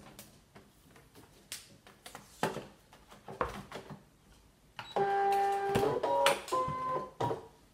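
A Brother ScanNCut machine cutting fabric: scattered clicks and ticks first, then a louder whirring motor drone with shifting tones as the cutting head moves.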